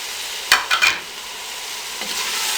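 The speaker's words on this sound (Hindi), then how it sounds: "अब इसमें हम आलू डाल देंगे।" Chopped potatoes tumble into a frying pan with a few quick clattering hits, followed by a steady frying hiss that builds slightly toward the end; no voices.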